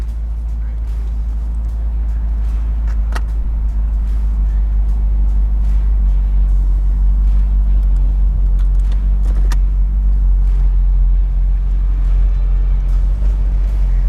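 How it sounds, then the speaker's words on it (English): A 2008 Corvette coupe with a MagnaFlow exhaust idles steadily, giving a deep, even, close-up rumble that holds at the same loudness throughout. "The MagnaFlow exhaust isn't overwhelming. It's not loud. It's just got a nice tone to it."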